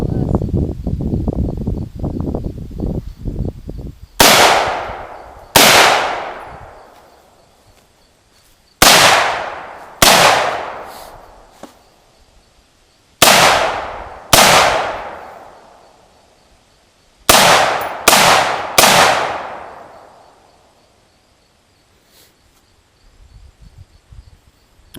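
Sharp gunshots from an AR-15 rifle or 1911 pistol crack out in uneven pairs and triplets at a shooting lesson, each with a ringing decay. Speech is heard at the beginning, before the shots.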